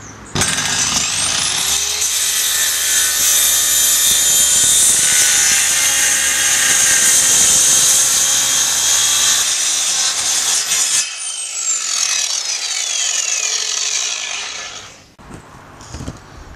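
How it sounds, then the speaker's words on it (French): A loud circular saw running along a guide rail screams through wood for over ten seconds, then winds down and spins to a stop, followed by a brief clatter. "Je vais m'aider pour cela donc de ma scie circulaire et de mon rail de guidage."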